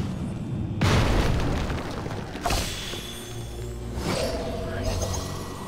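Explosions destroying house statues in the Harry Potter and the Goblet of Fire video game, several booming bursts with crumbling debris spaced a couple of seconds apart, loud and close, under a steady game backdrop.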